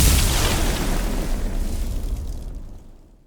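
A redesigned fire spell from Skyrim, a Firebolt layered with fire foley, punchy kicks and an EQ-brightened top, bursts as a loud, dense whoosh that fades out over about three seconds.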